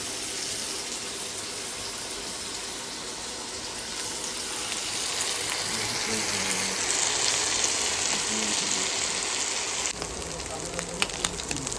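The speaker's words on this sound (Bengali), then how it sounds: "মাছের ভাজাটা বসিয়ে দিলাম" Fish sizzles in a pan on a home stove, a steady hissing fry that grows a little louder midway, with some background noise mixed in.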